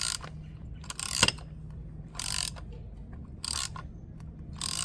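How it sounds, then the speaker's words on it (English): Ratchet wrench tightening a 27 mm nut on the oil cooler of a 2017 Dodge Charger 3.6, heard as a few separate bursts of ratcheting clicks close by, alone with faint background hum. "Going to tighten that until snug."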